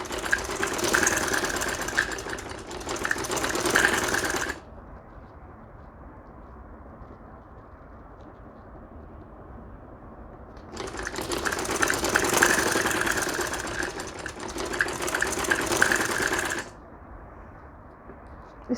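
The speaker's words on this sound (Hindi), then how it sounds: "आगे की स्टिचिंग करें" A sewing machine stitches dori piping onto a kameez in two long, even whirring runs, each several seconds long, separated by a quiet pause.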